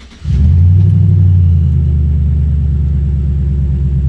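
A Chevy Silverado truck engine cranks briefly, catches and settles into a loud, steady close-up idle rumble with a short rev just after starting. No voices are present.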